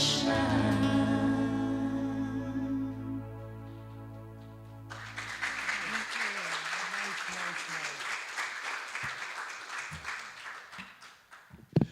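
An audience at a Sunday church celebration applauds a band after their song, the clapping rising as the final sustained music chord fades out and then continuing steadily at moderate volume.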